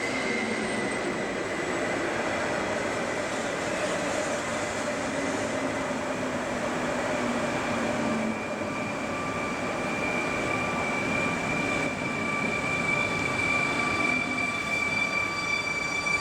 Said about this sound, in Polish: I wjeżdża kolejny pociąg.